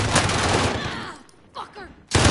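A Black Ops gun fires in a video game, opening with a dense, loud burst of rapid shots that fades out, then a brief quieter stretch with faint game sounds, and ends with another sharp burst of fire.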